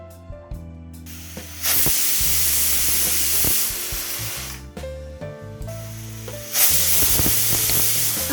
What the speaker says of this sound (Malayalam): ഫൈനലി നമ്മുടെ കുക്കറിൽ വിസിലൊക്കെ വന്നു